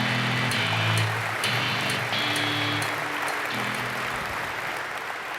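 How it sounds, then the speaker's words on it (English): A large conference audience at a general session claps in steady, sustained applause for an award winner, a dense wash of hands that fades slightly toward the end. "A big round of applause, please, for the 2011 User Group Leader of the Year"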